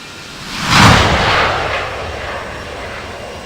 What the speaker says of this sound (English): Alpha Lima India is taking off runway 26, remaining in the pattern